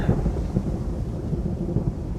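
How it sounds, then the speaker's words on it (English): A storm effect of wind and rain rumbles with low, rolling thunder-like booms over a constant wash of rain, brief and fairly loud. "So Ariel goes to the ship and makes a tempest with wind and rain."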